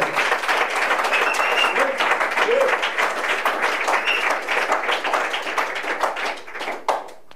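A church congregation claps steadily and loudly for several seconds in acclaim of the Lord, many hands blending into a dense, continuous patter that tapers off at the end.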